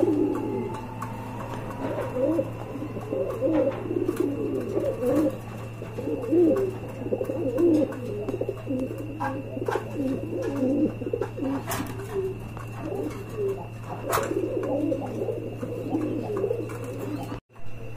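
Pigeons, a pair of high-quality Beauty Homer birds, coo in repeated low throaty phrases at close range. A steady electrical hum runs underneath.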